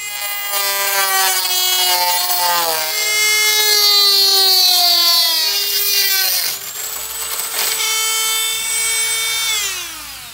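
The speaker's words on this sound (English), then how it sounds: "let's change that Dremel disc and just cut this last bit out" A Dremel rotary tool with a cutting disc slices through corroded car body metal, a loud, sustained high-pitched whine with shifting pitch that dips briefly partway through, then resumes and tapers off near the end.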